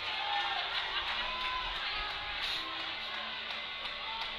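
Arena crowd noise rising for a woman powerlifter's final attempt at a national raw powerlifting championship, a steady broad roar of cheering and shouts sustained throughout without a break.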